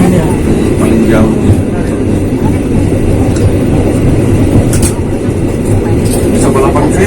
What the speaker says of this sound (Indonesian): Bisa balapan kereta kalau itu ya. Beda jalur.